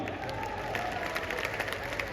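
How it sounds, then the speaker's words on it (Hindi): Audience applause at a Hindi poetry recital (kavi sammelan) hosted by Kumar Vishwas, a steady wash of crowd clapping and murmur lasting the whole moment, fairly subdued rather than a roaring ovation. "यहां आपने कम तालियां बजाई।"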